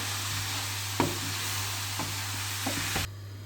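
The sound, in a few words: stirring nazik kebab mixture with frozen tomatoes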